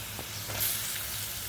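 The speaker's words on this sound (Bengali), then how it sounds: "আমি তেলের মধ্যে পেঁয়াজগুলো ভালোভাবে ভেজে নিচ্ছি" Onions frying in oil for fried rice made from leftover rice, a soft steady sizzle and hiss close by, fairly quiet and continuous for a short moment.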